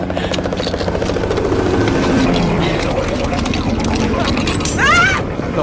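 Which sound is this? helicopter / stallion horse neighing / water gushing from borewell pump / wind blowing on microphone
helicopter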